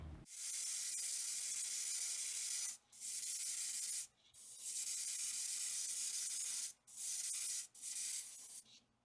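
A spray can sprays a coat onto an old WWII Russian grenade model in several long, loud hissing bursts separated by short pauses, with sputtering breaks in the spray.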